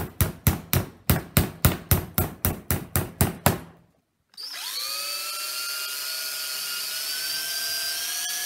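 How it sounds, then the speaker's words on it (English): A series of a dozen short, evenly spaced power drill bursts, then a brief silence before a drill runs continuously with a whining, steady tone. "I'm going to drill some holes in"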